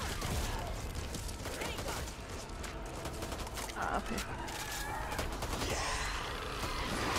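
Gunfire in the zombie shooter Back 4 Blood, with bursts and rattling volleys running continuously under a busy game mix while players talk over it.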